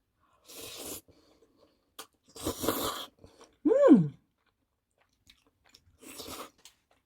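Someone eats rosé tteokbokki up close, with a few separate bursts of chewing and biting spaced by quiet pauses, plus a short hummed vocal sound in the middle.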